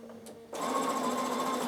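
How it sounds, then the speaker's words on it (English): Bernina sewing machine straight stitching, starting after a short pause into a steady close mechanical whir with a fast, even stitching rhythm. "I'm just straight stitching"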